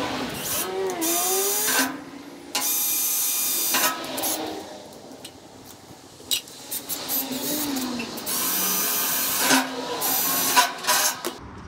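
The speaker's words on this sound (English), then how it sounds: "When I drill these holes, I'm going to use a larger size bit than these." Power drill boring holes into the rear of a tandem trailer while the indicator and brake light assembly is being refitted, a few loud bursts of whining motor separated by short pauses.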